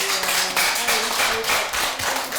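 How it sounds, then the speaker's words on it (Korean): A group of young novice monks at a Buddhist temple clap their hands together, a dense, steady patter of applause filling the space at close range. "이제 박수 쳐줘."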